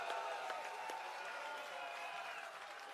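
Audience at an AAP public rally in Rewari, Haryana claps in a dense, sustained burst of applause from a large crowd, steady and moderately loud across the whole stretch with no speech over it.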